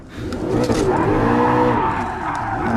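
A race car in Gran Turismo Sport VR driving into a corner, its engine note rising and falling as the tires squeal and skid steadily through the turn, loud and close with no voices.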